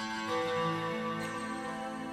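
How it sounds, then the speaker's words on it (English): Delay effect from a free VST plugin on high frequencies with the lows cut, giving a dense, faint wash of sustained smeared tones and echoes running steadily throughout, with no voices. "So that's the sound of the delays."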